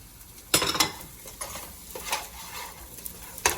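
Carrots and beans hit hot oil in a pan, a quiet steady sizzle broken by sharp clatters of a utensil against the pan, no talking.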